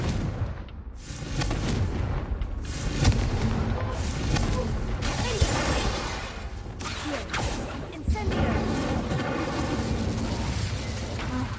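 Confringo fire-blast spell explosions in the Hogwarts Legacy video game, heard as a loud, dense barrage of booming blasts and crackling impacts over a sustained rumbling bed, with repeated heavy hits throughout.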